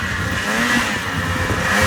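The engine of an old 600 RS car revs hard and close, a loud, rising and falling whine with strong tonal drone and no voices.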